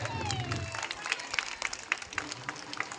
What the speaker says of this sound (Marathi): हात वरी करून टाळ्या वाजवा एकदा.